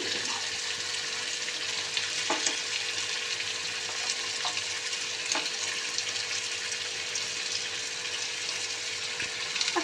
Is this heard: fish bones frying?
yes